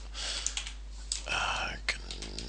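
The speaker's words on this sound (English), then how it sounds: "Let's go ahead and type in yum group" Typing a command on a computer keyboard, with close, scattered key clicks in short bursts over a low hum, and a soft whispered voice mixed in.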